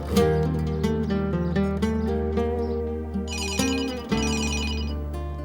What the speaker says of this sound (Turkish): Oğlum kalk telefon